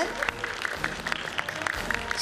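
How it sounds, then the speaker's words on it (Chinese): Audience applause welcoming a committee member at a national student creative drama competition's award ceremony, lively scattered clapping with distinct individual claps and a faint voice mixed in. "让我们掌声欢迎孙委员"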